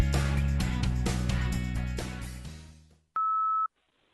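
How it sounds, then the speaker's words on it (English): A single steady answering-machine beep tone sounds alone for about half a second, loud and clean, right after a burst of music fades out to silence. "Now it's your turn to speak at Beep."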